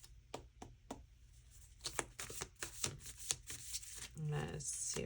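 Tarot cards shuffled in quick riffles and soft slaps, close by and fairly quiet, with a brief murmur near the end.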